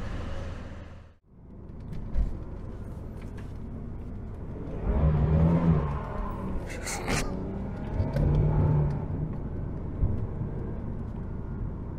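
A 2001 Holden VU Ute engine drones steadily while driving in Melbourne, with low rumble and road noise swelling and easing, a brief dip near the start, and faint voices underneath.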